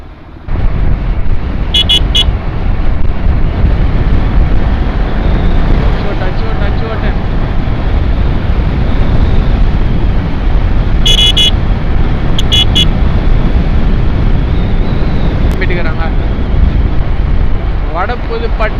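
Road traffic rumbles steadily and close, with short car horn toots sounding in brief clusters over the continuous engine and wind noise, and voices talking underneath.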